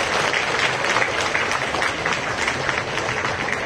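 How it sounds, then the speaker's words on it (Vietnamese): An audience at a Vietnamese pagoda gathering marking temple restoration breaks into dense, continuous clapping that holds steady and loud throughout, with no voices rising above it. "xin tất cả chúng ta hãy dành một tràng vỗ tay thật lớn"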